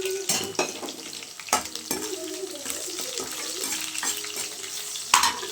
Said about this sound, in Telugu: ఆవాలు కూడా వేగాయి కదా, తెల్లగట్ల. అలాగే కరివేపాకు కూడా.